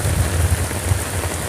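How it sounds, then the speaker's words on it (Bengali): Rain falls steadily in Chilahati, Bangladesh, a dense continuous hiss of drops on the road and surfaces, close and fairly loud. "এখন চিলাহাটিতে বৃষ্টি হচ্ছে"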